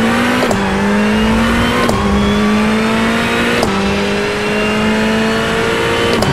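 A race car engine revving hard in first gear after a downshift, a loud, steady, close-up whine that rises gradually, with brief sharp shift breaks around every couple of seconds and no talking.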